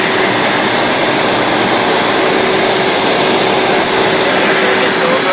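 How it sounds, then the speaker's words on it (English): MultiCam CNC router running a 1/4 inch end mill through a pocket and profile cut, a loud steady broadband roar with a faint constant whine, continuous for the whole stretch with no voices. "Change the end mill to the 1/4 inch and do the pocket and the profile cut."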